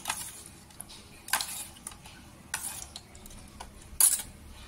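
A spoon stirs liquid food colour into a sandwich mixture in a bowl, giving soft scraping swishes punctuated by a few sharp clinks against the bowl, close and fairly quiet.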